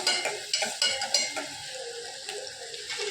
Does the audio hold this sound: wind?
no